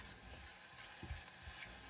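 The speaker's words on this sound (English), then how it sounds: "Stir to coat the mushroom with garlic oil." Shiitake mushroom being stirred in garlic oil in a pan, giving a soft steady sizzle with a few close scraping stir strokes, no voices.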